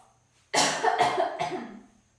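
Out of near silence comes one close cough, a harsh burst followed by two quicker hacks that trail off.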